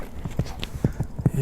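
A racing horse of the kind used in ulak, the Kyrgyz horseback game, is let loose and its hooves beat out a quick uneven run of thuds on the ground, fairly close, with a faint voice in the background.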